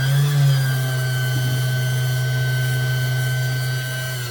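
A motor running at full speed on a new, lighter drive belt, giving a steady, even mechanical drone with a strong low tone and faint ringing overtones, close and continuous, no talk.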